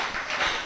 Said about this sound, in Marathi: सर्वांनी टाळ्या वाजवून प्रभू येशूला धन्यवाद द्या.